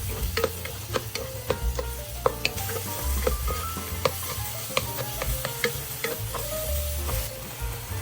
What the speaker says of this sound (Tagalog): Next, ilagay ang kamatis at igisang mabuti hanggang lumambot ito.